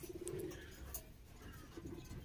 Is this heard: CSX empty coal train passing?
no